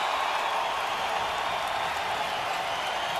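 Home crowd noise at an Arizona men's college basketball game against New Mexico, a steady, dense roar of cheering and applause that fills the arena evenly throughout, with no single voice standing out.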